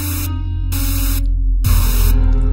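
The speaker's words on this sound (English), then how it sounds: "It's got white noise in it." Loud white noise from the Mysterious Hole comes in harsh bursts of broadband hiss, switching on and off over a constant low hum.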